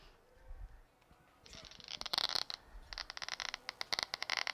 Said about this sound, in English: This is the song of a single brain cell